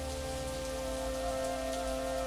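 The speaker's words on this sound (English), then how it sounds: "Plus, it's still raining." Steady rain falls continuously in a scene from the Higurashi When They Cry video game, a dense even hiss under a low sustained musical drone with no voices.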